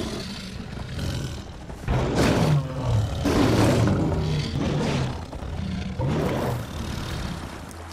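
A tiger roaring in the stone-age video game Far Cry Primal, a series of loud, rough roars repeating every second or so, close and prominent throughout with no talk.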